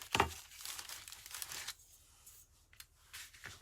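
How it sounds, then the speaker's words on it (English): A paper file folder is folded over by hand, with a sharp crinkle at the start and softer rustling and creasing afterwards, close and quiet. "all I'm going to do is I'm just going to fold this over again"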